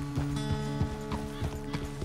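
Horse hooves clip-clopping in Red Dead Redemption 2, a steady series of close, distinct hoof strikes at a walking rhythm over a sustained tonal background hum.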